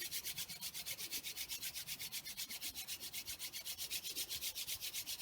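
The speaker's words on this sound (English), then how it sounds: "Rub your hands together quickly for 30 seconds." Hands rub together quickly in a fast, even back-and-forth rhythm, a close, soft swishing friction that repeats steadily throughout with no voices.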